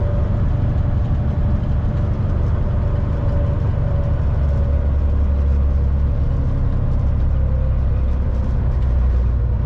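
A Euro-style truck's diesel engine labors up a hill in a steady, deep, continuous rumble, heard close and alone from start to end.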